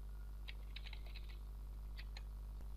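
Light, irregular clicking of keys on a computer keyboard, a few quick bursts of taps over a steady low hum, with no talking.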